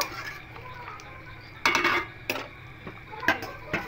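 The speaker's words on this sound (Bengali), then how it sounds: "এবার সবগুলো দিয়ে খুব ভালো করে মিশিয়ে নেব।" A spoon scrapes and clanks against a pan as fish roe cutlets are mixed into a simmering curry, a few sharp metallic knocks over a low bubbling background.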